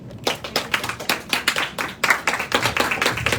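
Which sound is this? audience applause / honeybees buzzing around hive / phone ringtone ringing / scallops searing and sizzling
audience applause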